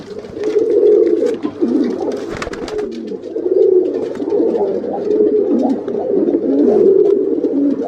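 Red Danish pigeon and other pigeons cooing steadily at a pigeon sale, a dense, close, continuous murmur of overlapping low coos with a brief scuffle partway through.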